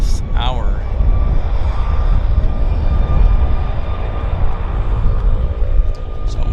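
A WestJet airliner at Vancouver Airport rumbles with a loud, steady broadband engine roar that holds throughout, with a brief whistling tone near the start.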